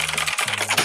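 Quick clatter of keystrokes on a computer keyboard, close and fairly loud, a short burst of several taps over a steady low hum.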